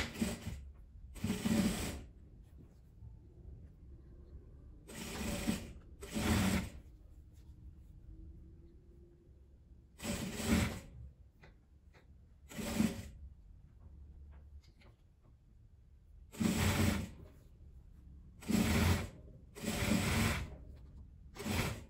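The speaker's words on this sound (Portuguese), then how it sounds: "Agora eu vou passar uma costura aqui em volta dela toda." A sewing machine stitching around the edge of a fabric beret, running in short bursts of rapid mechanical chatter separated by quiet pauses, close by with no talking.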